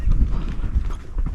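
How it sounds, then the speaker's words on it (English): Ruby, an older pony, canters outdoors near bushes with a rhythmic clip-clop of hooves in quick repeating beats, close and fairly loud. "Did a little canter."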